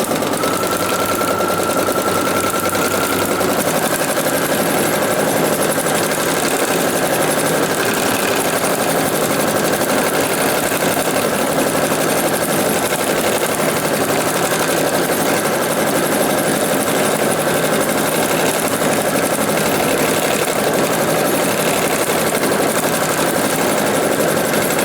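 A sewing machine runs steadily with a presser foot down while quilting a fabric journal cover, giving a continuous, even, loud mechanical whir with no pauses and no talk.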